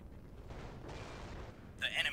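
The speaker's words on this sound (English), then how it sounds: "Oh my god. That is so many rockets." Rocket fire in the space combat game Nebulous: Fleet Command, a rumbling series of muffled booms and bursts that swells to a brighter crackling burst at the end, heard under talk.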